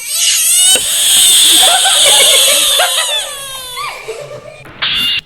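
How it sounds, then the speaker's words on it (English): A frog gives a shrill, drawn-out screech that wavers and rises in pitch for several seconds, loud and close, then breaks off before a brief sharp squeal at the end. "I've never heard a frog ree in my entire life."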